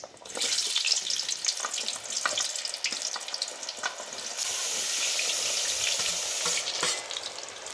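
Elephant foot yam and potato pieces fry in hot oil for undhiyu, giving a close, loud continuous sizzle with bubbling crackles and occasional stirring, with no voices.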